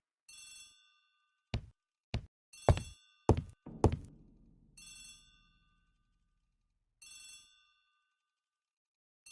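A telephone in a hallway rings in the video game Agatha Christie: The ABC Murders, with repeated bright bell trills spaced by silence, interrupted by a series of sharp, loud knocks and thuds before the ringing resumes.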